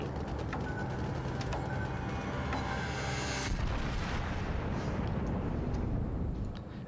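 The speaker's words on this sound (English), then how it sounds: "here comes that one torpedo" A torpedo hit in World of Warships, sounding as a broad rumbling blast that swells midway and rolls on with dense low roar and crackle, with sharp clicks early on and no talk.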